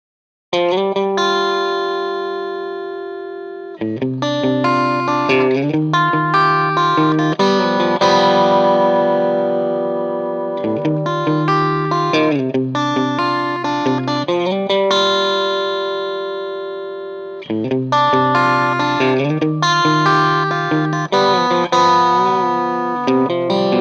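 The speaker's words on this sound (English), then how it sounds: "And then we get into the verse riff, and it goes like this." Distorted electric guitar plays the verse riff alone, with no talk: loud, chunky repeated phrases in steady rhythm that break off briefly every few seconds before starting again.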